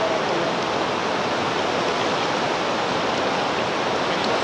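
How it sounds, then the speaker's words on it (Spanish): An underground river, the Chonta, rushes through a cave deep below ground near the Cacahuamilpa grottoes, a steady, loud, enveloping roar of flowing water with no talk. "Estamos en el río Chonta, cerca de las grutas de Cacahuamilpa."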